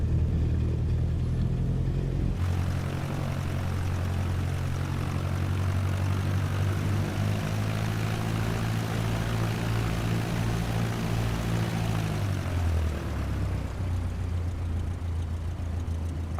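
Propeller airplane engine in a flight simulator game, a loud steady droning hum with a strong low tone that shifts pitch partway through, then settles lower near the end, with no speech.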